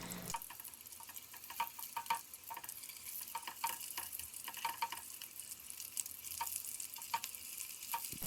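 Steady, quiet sizzling of meatballs frying in a pan, with occasional soft pops and light clicks, no voices.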